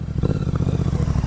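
A motorcycle engine runs close by with a steady, loud, low, rhythmic chugging throbbing through the whole moment, with no talking over it.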